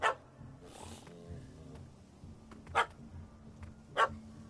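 A dog in The Witcher 3 gives three sharp, loud barks spaced across a few seconds, standing out over quiet game ambience with low rumbling sounds between them.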